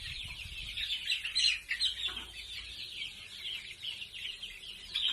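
A group of one-month-old native chicks chirps and clucks in a busy, overlapping chorus, high peeps rising and falling close by against a soft low background rumble.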